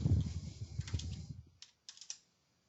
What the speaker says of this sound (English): you're going to type in the balance